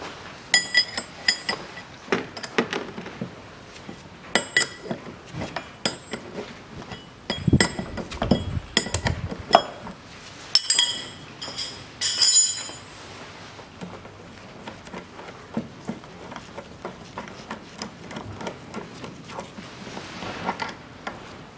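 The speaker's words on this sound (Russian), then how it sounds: "Все, гайка откручена." A nut is undone on the rear shock absorber mount of a 2011 Hyundai ix35 in a run of metallic clinks, rattles and ratcheting clicks, denser and louder in the middle stretch, with no voice over it.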